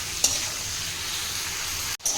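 Prawns frying lightly in hot oil for a malai curry give a steady, even sizzle throughout, with a brief utensil tap near the start and a short break near the end.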